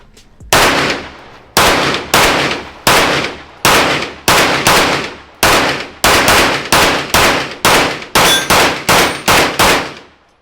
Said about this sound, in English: We're gonna get you ringing some steel though. All right. All right, now shoot the staccato.